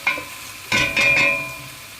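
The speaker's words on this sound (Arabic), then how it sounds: "هقلب البصله كده" Onion frying in a pan and being stirred, a close sizzle broken by a few quick scraping strokes of the spoon over about two seconds.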